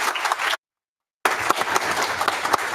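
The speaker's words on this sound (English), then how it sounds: "You can applaud." Applause from an audience at a town council meeting after a domestic violence proclamation, a dense, steady patter of many hands, interrupted by a short gap of silence before resuming.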